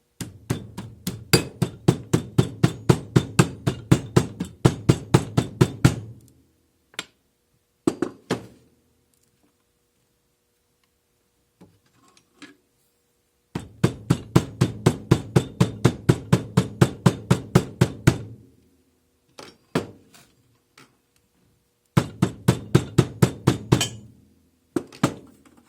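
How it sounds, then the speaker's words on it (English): Casting sand, a Petrobond mix, rammed into a flask by hand in steady runs of rapid thuds, loud and close, each burst lasting a few seconds with brief pauses and scattered single knocks between. "Got to pack your sand in there."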